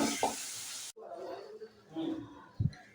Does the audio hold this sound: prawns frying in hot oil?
yes